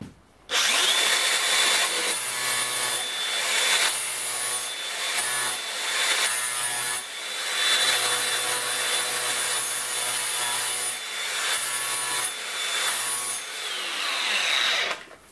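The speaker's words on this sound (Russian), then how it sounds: "поставил наш диск на УШМ, взял вот такую вот трубу ржавую и сейчас попробуем ее обработать нашим диском" An angle grinder fitted with an old flap disc grinds a rusty pipe, giving a loud, harsh, continuous whine that dips briefly between passes, with no voices.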